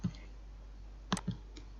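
A few crisp computer mouse clicks, right-click then paste, come in a quick cluster of three near and sharp taps against quiet background hum.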